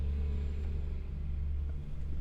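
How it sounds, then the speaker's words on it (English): A truck rolls down Reno street outside, a low, steady rumble heard faintly through a recording room, continuous for the whole short stretch with no talk over it. "you probably just heard a truck going down Reno"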